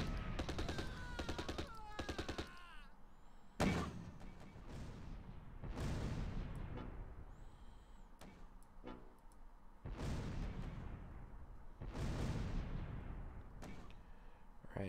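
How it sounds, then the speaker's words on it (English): Bursts of machine gun fire and booming battle sounds from the World War II video game Close Combat: Last Stand Arnhem, several loud volleys separated by brief lulls, steady and fairly close. "That's a machine gun right there, that team."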